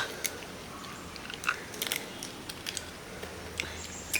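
Quiet, close crunching bites into fried crab: several sharp cracks scattered irregularly over soft chewing.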